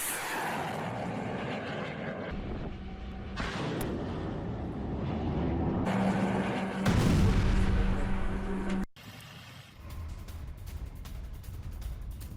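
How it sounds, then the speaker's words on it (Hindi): A Uran anti-ship missile launches from a Typhoon corvette during a Russian military exercise, a sustained loud roaring rush that swells and peaks before cutting off abruptly, followed by lower rumbling noise. "रूस ने टाइफून कॉर्वेट से लॉन्च की एक टेस्ट मिसाइल। कम ऊंचाई पर यूरान टाइप एंटी शिप मिसाइल देखिए कैसे कर दी गई तबाह।"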